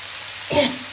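Beef brain dropped into hot, well-fried spiced masala with garlic paste, giving a sudden close sizzle that swells for a moment and then settles into a steady frying hiss.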